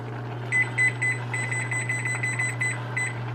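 A kitchen timer is set before baking vegan empanadas, giving a run of short electronic beeps, first a few spaced presses, then a quicker steady string, close and clear over a low steady hum.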